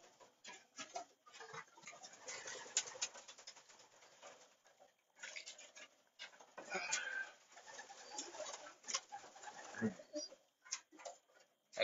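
Pigeons in a loft at feeding time, soft cooing and scattered bird calls with ticking, shuffling sounds, fairly faint and close, while someone talks intermittently.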